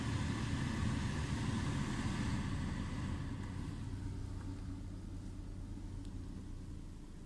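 A fan at its lowest speed setting blows air over a mass airflow sensor, giving a steady, rumbling broadband whoosh that softens slightly over several seconds.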